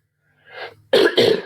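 A man coughs twice in quick, harsh bursts from allergies, close and loud, after a softer breathy throat sound.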